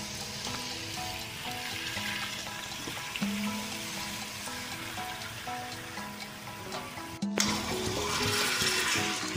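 Chicken pieces sizzle and fry steadily in a pan of fried spices with kasuri methi, a continuous close hiss and crackle running throughout, with a brief clatter partway and slightly louder frying afterwards.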